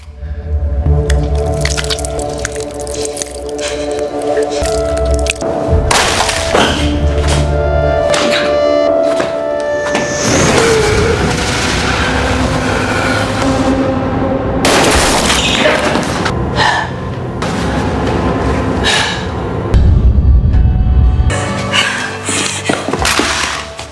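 Gunfire from a film scene where a man shoots his own hand to lure an infected man: sharp, repeated shots and booms scattered across a dense, loud action soundtrack with impacts and rumbling, no talk.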